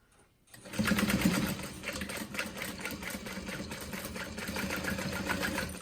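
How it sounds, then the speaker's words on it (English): A sewing machine runs steadily while back stitching a Swoon Charlotte City Tote, a fast, even mechanical whir that starts after a brief pause and holds close and loud to the end. "I'm going to add a back stitch here and there throughout."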